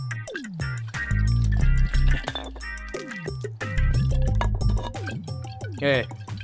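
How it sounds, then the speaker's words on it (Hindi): Beer bottles clink together in a toast during a dubbed Hindi film scene, a few bright glassy chinks mixed among loud voices and music-like tones, with people talking throughout. "ये ले भाई, बोतल पकड़, चीयर्स करते हैं।"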